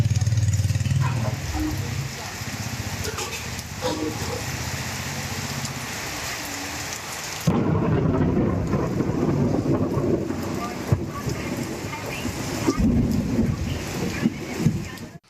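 Heavy rain with thunder in Chennai, a dense hiss of rain on surfaces with low thunder rumbles, the downpour growing louder halfway through, faint voices underneath.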